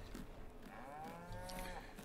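Dairy cattle on a farm in Farming Simulator 19, one drawn-out moo rising and falling over a low background hum, fairly faint and heard without talk.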